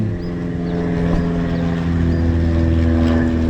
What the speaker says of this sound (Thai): เครื่องบินเครื่องบินเครื่องบินนู่